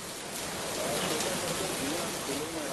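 Steady rain falls in Nagpur, a dense, even hiss of drops on surfaces that stays close and constant throughout.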